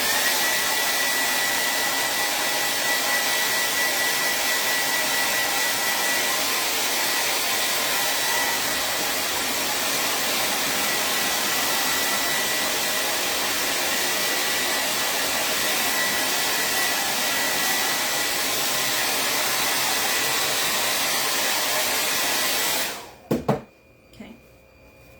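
A hair dryer blows steadily and loudly close by for over twenty seconds to dry paint on a craft vintage truck, then clicks off, leaving a few handling knocks.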